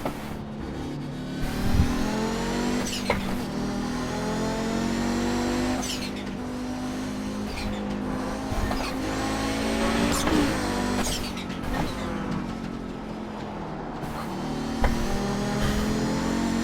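Audi GTO race cars in the iRacing sim at Road Atlanta roar through a Kamel GT race, several engines droning and revving together with rising and falling pitch sweeps as cars pass close, continuous and loud throughout.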